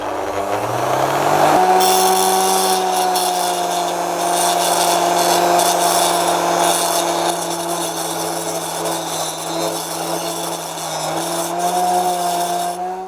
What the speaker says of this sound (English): we have a polishing brush here, or wheel, and let's see how that works. Now that's typically high speed, so we'll put it to the maximum.